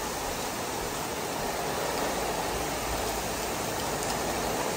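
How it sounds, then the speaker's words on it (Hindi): Heavy stormy rain falls outdoors in Karachi as a dense, steady roar of hiss that stays even and loud throughout, with no talk over it. "इतनी तेज तूफानी बारिश हो रही है।"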